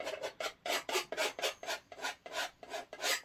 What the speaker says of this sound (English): Let's get in there and scrape all the excess paint off.